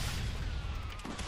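Ballista bolts launched in the Kung Fu Panda video game, a dense rumbling barrage of booming shots with no clear gaps, loud and continuous throughout, no talking.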